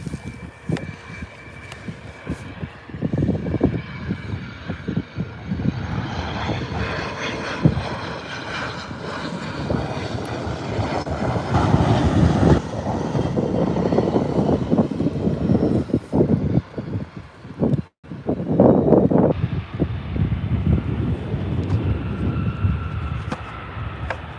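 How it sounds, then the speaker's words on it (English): An Alliance Airlines Fokker airliner comes in to land at Adelaide Airport, its engine roar swelling from a distant rumble to a loud, broad rush as it passes near, then fading into the airport. "We can hear that Alliance Fokker. It's coming in just here."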